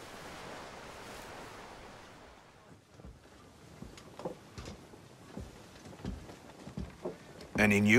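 Atlantic Ocean waves and wind in the game Assassin's Creed III, a soft rolling surf and airy wash with occasional splashing swells, ending in a sudden louder burst.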